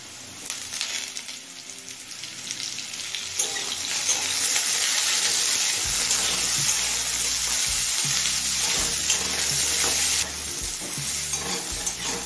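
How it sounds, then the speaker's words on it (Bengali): Potatoes and carrots fry in an oiled pan for vegetable patishapta, producing a loud, continuous sizzle with spatula stirring and scraping throughout, close and without talk. "গাজরটা দিয়ে আরো মিনিট 2-3 ভেজে নিলাম।"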